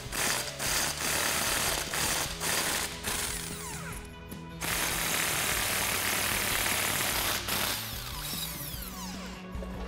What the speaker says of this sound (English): I'm going to be using a 19 with our spline key